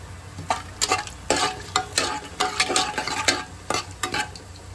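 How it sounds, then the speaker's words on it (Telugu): Whole spices sizzle in hot oil in a pressure cooker for chicken biryani, with a steady frying hiss under rhythmic, close scraping strokes of a stirring spoon; no talking. "ఇప్పుడైతే ఆయిల్ హీట్ ఎక్కింది ఇప్పుడు ఈ చూపించిన మసాలాలన్నీ ఇందులో వేసేసుకుందాము"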